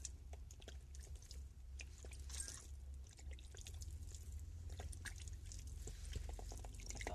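Liquid is poured into a container of cow manure compost during biodynamic farming preparation, a faint, uneven trickling and splashing with small wet clicks and drips over a low background hum, and no talking.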